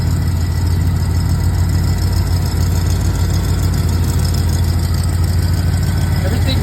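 The V8 engine of a 1965 Oldsmobile Starfire convertible idles steadily with a deep, constant rumble and low throb, loud and close, without pauses.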